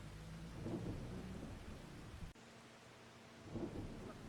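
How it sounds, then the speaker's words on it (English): Rain falling with rolling thunder in Farming Simulator 25, a steady hiss of rain broken by deep rumbles, one swelling early, another near the end, with a sharp crack midway. "I'm going to wait for this rain to quit"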